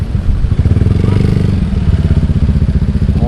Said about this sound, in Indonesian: Motor, mobil ramai.